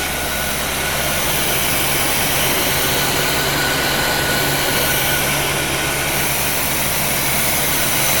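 A 1975 C3 Corvette engine idles loud and close in cold weather, a steady, rough broadband roar that holds without a break while the engine smokes heavily, with no talking over it.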